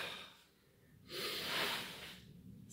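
A single forceful exhale through the nose accompanies a karate punch drill, a short breathy rush that swells and fades, following a quieter inhalation, with no voice.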